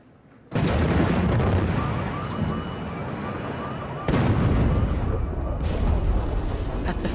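Bombs falling and exploding during an air raid on Baghdad: a loud, sustained roar of blasts and rumbling that starts abruptly, eases slightly, then surges again with a fresh burst of crackling detonations.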